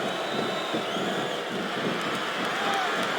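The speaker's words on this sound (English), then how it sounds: "Sounds like this crowd's got something on their minds, King." A dense, steady roar of a large wrestling crowd in the video game WWE SmackDown! vs. RAW 2007, distant and continuous, with no distinct cheers standing out.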